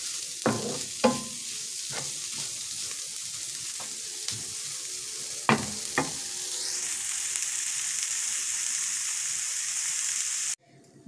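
Sandwich filling fries in a pan with a soft continuous sizzle, punctuated by several sharp utensil clacks and scrapes against the pan, recorded up close with no talking.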